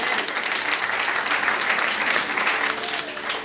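Congregation applauding together in a church service, steady dense clapping at constant level throughout, with a faint voice or cheer now and then underneath.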